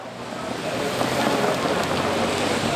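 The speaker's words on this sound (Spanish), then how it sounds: "Está lloviendo" Steady rain hisses continuously, a dense, even wash of falling water with no voices over it.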